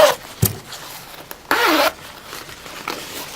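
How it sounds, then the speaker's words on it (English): A zipper on a lined inner pocket of a ribbon-trimmed garment bag is pulled, first with a quick short zip, then with a longer rasping stroke, close and crisp against a quiet room. "Zipper works."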